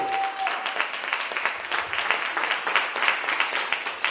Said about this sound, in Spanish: Vamos, apláudale fuerte.